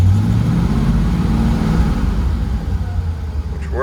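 The engine of a 1940 Ford pickup runs loud and close with a rough, throbbing rumble that rises and falls slightly as the throttle is worked, ending with a short higher-pitched chirp.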